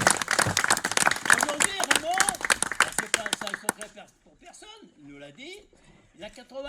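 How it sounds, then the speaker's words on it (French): A crowd claps and cheers for Raymond, a longtime pillar of the group turning 80, at a birthday gathering; dense applause fills the first few seconds, then fades into people chatting and laughing. "Applaudissez-le"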